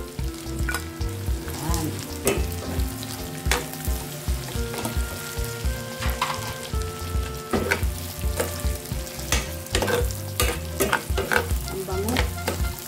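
Pork belly and fried tofu stir-fry for ginisang monggo, loud close sizzling broken by repeated clattering scrapes of a utensil against the pan in an uneven rhythm, with no voices.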